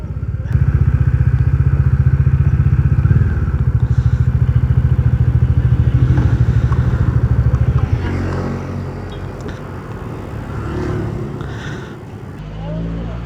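A Kawasaki Dominar 400 motorcycle on the move, with a strong low engine drone filling the first eight seconds, then a quieter idle and rumble with light clatter as the ride slows.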